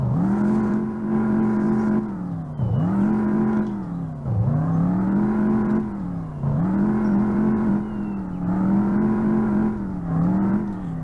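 Car revving through its gears while driven on a street, a car with a short differential and four-speed gearbox, engine pitch rising and dropping in repeated cycles, loud and close with no talk.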